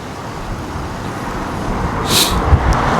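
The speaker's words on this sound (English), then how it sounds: "The Santa Ana wind is crazy. Look at the wind blowing." Strong Santa Ana windstorm in Southern California gusting around 57 mph, a constant broad roar with a distant traffic-like rumble underneath and a brief hissing gust surge near the end, no voices.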